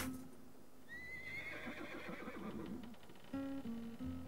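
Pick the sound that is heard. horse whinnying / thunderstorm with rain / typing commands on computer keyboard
horse whinnying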